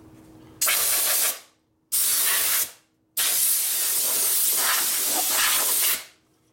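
Aerosol spray hisses onto a part of a 1973 Harley-Davidson Shovelhead bobber being cleaned of dirt, three close bursts, two short and one longer, separated by brief silences over a low background hum.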